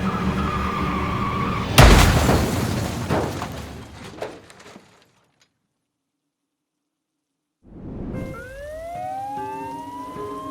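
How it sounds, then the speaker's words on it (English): A car swerving and losing control on the road gives a sudden loud skid and crash-like burst that fades into silence. A rising, wailing police siren follows. "the car swerved on the road and completely lost balance"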